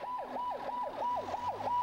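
An ambulance siren sounds on its way to the Wolmido ferry dock in Incheon: a rapid, repeating yelp sweeping up and down about every quarter second, steady and moderately loud with a faint engine rumble beneath.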